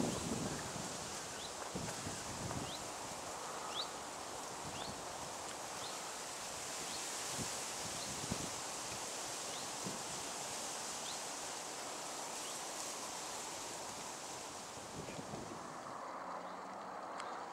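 Wind blowing through trees at a fishing lake on a windy September day, a steady broad rustle and whoosh with gusty microphone buffeting that holds at an even level throughout.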